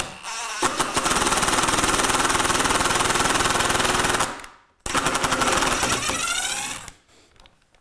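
A power driver sinks a screw into softwood lumber: a loud, close, rapid rattling whir for several seconds, a brief pause, then a second shorter burst before stopping.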